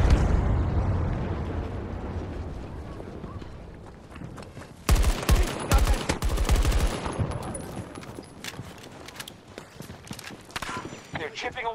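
Explosions and bursts of gunfire from the video game Battlefield 2042 boom and crackle, growing loud and rapid midway, with someone talking over the action.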